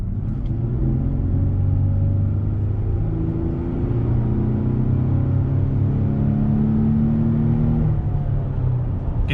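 Engine drone rises steadily as a Chevy Colorado pickup with a cold air intake accelerates, with a deeper, more pronounced intake rumble heard from inside the cab, continuous without talk.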